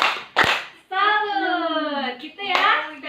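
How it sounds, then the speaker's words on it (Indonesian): A group at a community meeting performs a rhythmic "tepuk salut" clap. Sharp hand claps come in short bursts, separated by a sustained chanted voice. "Tepuk salut untuk Ibu Nisa ya."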